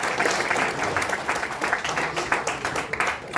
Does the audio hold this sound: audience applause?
yes